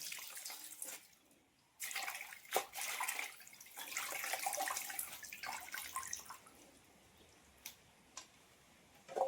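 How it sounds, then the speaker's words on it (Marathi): Vegetables are washed with water in a large colander. Running water splashes and gurgles in uneven bursts, with short quiet gaps and faint drips, close by and with no voices. "आता यामध्ये सर्व मी भाजी धुवून घेते"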